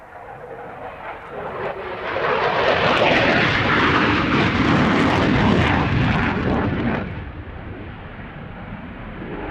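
An F-16 fighter jet flying max rate turns passes overhead, its engine roar swelling loudly for several seconds before fading back into the distance.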